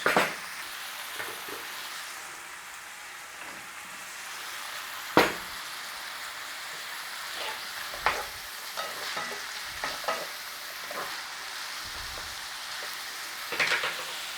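Onions and garlic sauté in a pan, a continuous soft sizzle broken by occasional louder scrapes and stirring clatters, heard up close with no talking.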